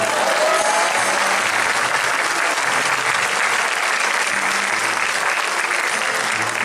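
Sustained audience applause at a memorial tribute, a dense, steady wash of clapping from a crowd that holds at an even loud level throughout without fading.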